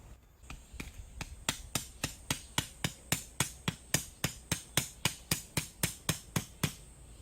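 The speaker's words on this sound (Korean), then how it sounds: "자, 이렇게 지주대까지 다 박았고요." Steady hammer blows drive a support stake into soil beside a newly planted Shine Muscat grapevine, about twenty sharp, evenly spaced strikes over seven seconds, close and fairly loud, with no talking.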